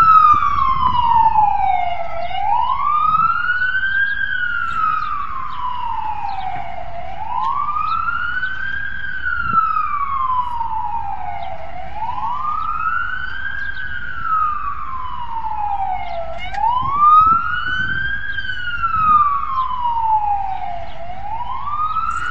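Emergency vehicle sirens wail in slow rising and falling sweeps, repeating about every five seconds and loud, over faint traffic rumble near a block of parked cars at night.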